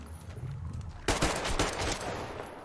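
Gunfire in Metro Exodus while fighting a big humanoid creature, the weapon prone to jamming: a loud burst of shots erupts after a quieter stretch and continues as rapid, dense firing with no talk.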